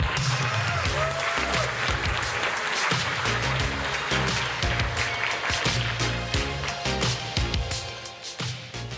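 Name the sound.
audience applause for a summit speaker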